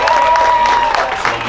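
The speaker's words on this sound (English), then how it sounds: "let's give him another round of applause, please." A crowd at an outdoor Puerto Rican flag raising ceremony gives a loud, sustained round of applause, clapping and cheering steadily throughout with voices mixed in.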